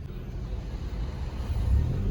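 A car moves slowly through heavy highway traffic, with a steady low engine and road rumble heard from inside, swelling slightly toward the end.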